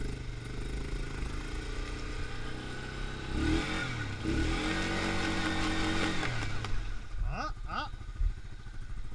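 A Yamaha Grizzly 550 ATV stuck in a deep muddy bog revs hard with wheels slipping, its engine droning loud and rising in pitch, with a short exclamation from a rider and a couple of sharp pitch sweeps near the end.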